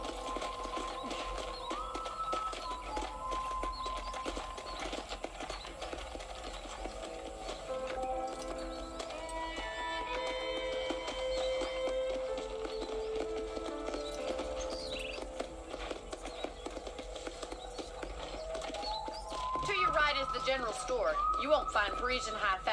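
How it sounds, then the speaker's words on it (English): Horse hooves galloping at a steady clip-clop in the Western video game Red Dead Redemption, heard under continuous game music with voices talking over it. "let's see if you can still ride a horse"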